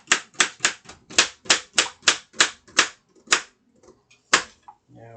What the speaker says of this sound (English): Chop the carrot, small, tiny pieces.